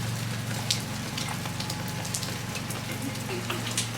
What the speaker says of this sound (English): Yeah, it's really raining.